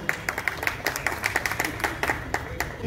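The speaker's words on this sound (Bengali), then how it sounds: "তার জন্য একটা জোরে করতালি" A small audience claps for a musician at a recitation event, with a steady run of sharp, fairly close handclaps at a brisk, even pace that keeps going without a break.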